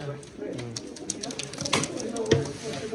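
Racing pigeons coo softly in a loft, low murmuring calls repeating over a steady background bustle, with a few sharper sounds and occasional voices talking nearby.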